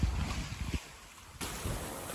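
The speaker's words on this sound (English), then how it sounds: "Got about 15 knots of wind, but we're a good angle on the waves now." Wind gusts and choppy waves slap a sailboat on a broad reach with the genoa out in about 15 knots, a steady rushing roar that drops briefly midway, then surges back loud and close.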